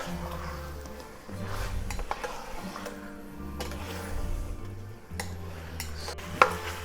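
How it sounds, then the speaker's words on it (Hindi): Chicken with ginger and garlic stirred in a pan, giving soft scraping and clinking of a utensil against metal in uneven bursts over a quiet background, with one sharper knock near the end and no talk. "मिक्स करते हैं ताकि जो जिंजर गार्लिक है वो चिकन के ऊपर प्रॉपरली कोट हो जाए"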